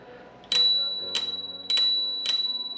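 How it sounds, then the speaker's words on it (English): The bell on a Leqismart A8 electric scooter, four clear bright rings spaced about half a second apart, each leaving a sustained metallic ring, heard close and alone. "You get a little"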